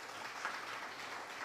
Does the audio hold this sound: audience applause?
yes